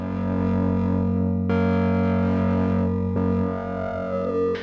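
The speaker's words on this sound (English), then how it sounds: "Masses of distortion and stuff coming out of it now" A Roland Promars analogue synthesizer plays sustained, buzzing notes through heavy distortion, loud and thick, with a couple of abrupt note changes partway through and no talking.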